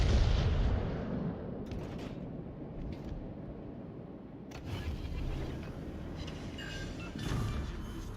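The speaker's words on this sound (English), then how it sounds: "The Masashi's over there firing HE at me." Heavy naval gunfire and shell impacts rumble in World of Warships Legends as a Japanese battleship fires high-explosive rounds, deep booming blasts rolling over a constant low battle roar, with sharper hits near the end.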